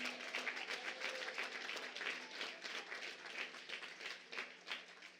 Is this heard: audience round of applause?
yes